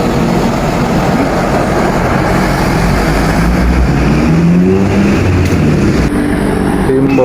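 A Budiman bus pulling away from the terminal in Tasikmalaya, a loud continuous low engine rumble close by that builds slightly as it moves off, with no talk.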